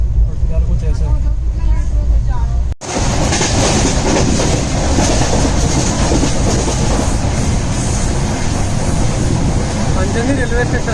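The Netravati Express passenger train runs on rails between Khed and Madgaon, heard from inside: a loud, steady rumble with rattling and clickety-clack, interrupted by one sharp momentary break near the start.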